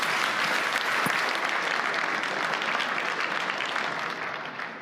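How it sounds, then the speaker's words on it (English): Sustained applause from a large audience, steady and dense throughout, tapering off slightly at the end. "Let's offer a round of applause."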